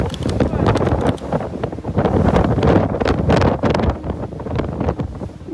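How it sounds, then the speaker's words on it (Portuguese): Strong wind gusts roar across a microphone on a mountain trail, a loud, continuous buffeting rush that surges and eases in waves. "As rajadas continuavam fortes"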